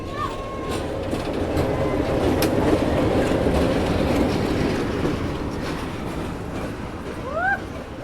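An oncoming train rumbles past at a crossing at Murtihar railway station on the line through Dudhwa National Park, a steady loud roar with clattering wheels and brief squeals, heard from inside a halted train.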